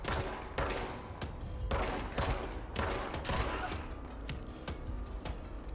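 Video-game gunfire crackles in rapid bursts while shooting targets, a series of sharp volleys separated by short pauses, moderately loud and fairly close.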